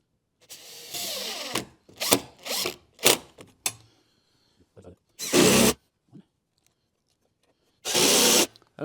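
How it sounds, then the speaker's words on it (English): A power drill drives a temporary sheetrock screw while a heater is being mounted inside a vardo gypsy wagon. Several short, loud whirring bursts stop and start with silent gaps between them. "I'm just doing a temporary sheetrock screw to hold it in place."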